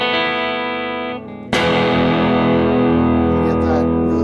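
An electric guitar played at high gain through a Kemper amp profile gives a sustained, heavily distorted chord, then a louder struck chord that rings on thick and dense, close and alone.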